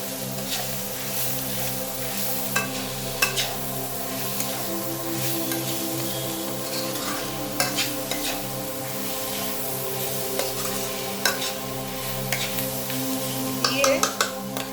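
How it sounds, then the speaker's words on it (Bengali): Tomatoes and green chillies stirred into Bengali-style chicken curry frying in a pan, a steady low sizzle with scattered scraping stirs and light clinks of utensil against the pot, fairly close, no talking. "একটু নাড়াচাড়া করেই এর মধ্যে দিয়ে দেবো টমেটো আর কাঁচা লঙ্কা দিয়ে একটু মিশিয়ে নেব"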